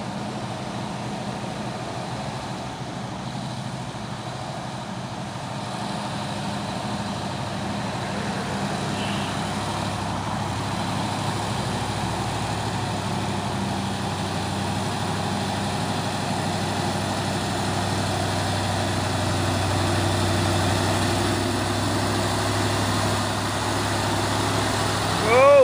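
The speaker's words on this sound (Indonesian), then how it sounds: "truk tangki CPO ini ya. Slow tapi pasti saat melewati tanjakan Bukit Kodok" A CPO tanker truck crawls slowly up the Bukit Kodok hill, its heavy engine laboring with a low, steady drone that grows gradually louder and nearer.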